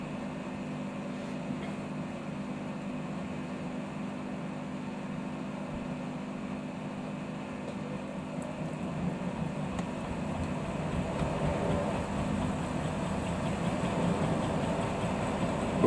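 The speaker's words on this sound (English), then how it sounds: "Whoa, it's quite unbalanced." Bosch VarioPerfect washing machine on a cottons cycle spinning an unbalanced load of towels and bathmats, a low steady rumbling drone that grows louder and rougher toward the end.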